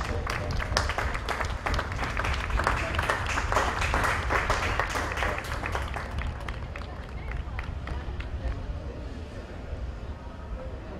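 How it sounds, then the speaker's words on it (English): A crowd at a polo club applauds both teams at the podium, a loud dense burst of clapping that builds early and then gradually thins and fades toward the end. "One more round of applause for both teams."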